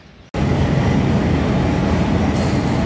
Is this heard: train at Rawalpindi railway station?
yes